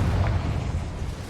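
A Confringo fire spell blast in the Hogwarts Legacy video game, a short, loud, deep boom with a rumbling burst that fades quickly, heard alone.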